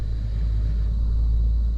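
Steady low rumble of road traffic near a building by an industrial area in the New Orleans metro, continuous and fairly loud, with no voices.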